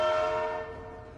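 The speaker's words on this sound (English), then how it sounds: "I love the sound of that devil horn." A Minecraft train horn blares loud and close in a single sustained tonal blast that gradually fades, with no talk over it.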